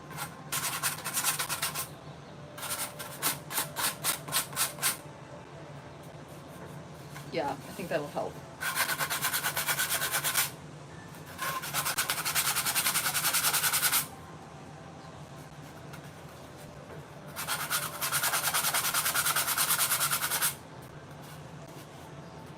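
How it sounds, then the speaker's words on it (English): A seam on a ceramic plate is sanded by hand in an art studio, giving bursts of harsh, steady rasping that start and stop over about twenty seconds, close and loud, with a brief spoken remark between strokes. "So I'm going to sand it, and hopefully that makes it a little better."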